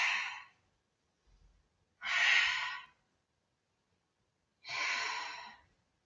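Three deep, breathy exhales spaced roughly two seconds apart during a Pilates exercise, close to the mic and alone in an otherwise quiet room.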